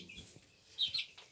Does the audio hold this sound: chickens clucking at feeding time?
yes